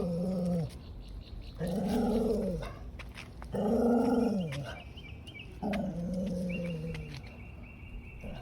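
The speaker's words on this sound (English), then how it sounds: "A beagle? You hear it growling though?" A beagle growls in drawn-out, rising-and-falling rumbles, four long bursts separated by short pauses, close and fairly loud with faint higher chirps in the background.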